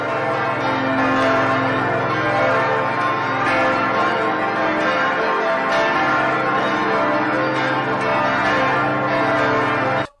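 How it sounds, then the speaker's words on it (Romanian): The thirteen newly installed church bells of Hadâmbu Monastery ring together in a dense, continuous peal, loud and sustained with overlapping strikes and long resonant tones, with no voices. "Pentru prima dată de când au fost montate cele 13 clopote noi ale mănăstirii Hadâmbu, au răsunat spre bucuria obștii și a celor prezenți."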